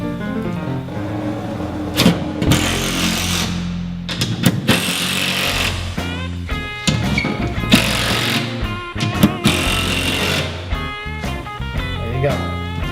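A power tool cranks mounting bolts in while a unit is installed onto a rig, loud steady motor whine with repeated short bursts and sudden stops, close by and without talk.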